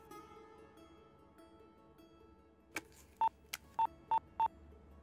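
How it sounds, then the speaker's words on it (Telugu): A telephone being dialed to call someone's father, a brief click followed by several short touch-tone beeps in a quick, slightly irregular run, alone in a quiet room. "నాన్నగారికి ఫోన్ చెయ్యి."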